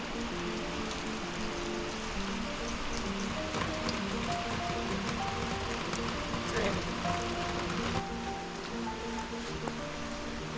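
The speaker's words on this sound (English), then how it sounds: "And now it's raining." Steady rain pours onto a garden, a dense continuous hiss with scattered drops and patter, loud and unbroken the whole way through with no talk over it.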